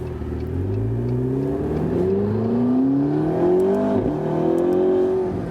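A McLaren 650S Spider's 650 hp V8 in sport powertrain mode accelerates hard, its engine note rising steadily through the gears with a brief dip at a shift, loud and close from inside the convertible.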